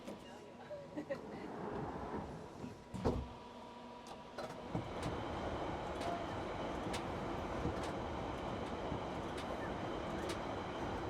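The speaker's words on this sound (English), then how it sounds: "This train is now ready to part" A London Night Tube train rumbles and builds as it pulls away from a station, a loud low roar with a thump of closing doors, and a voice talking early on.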